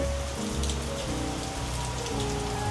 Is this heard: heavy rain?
yes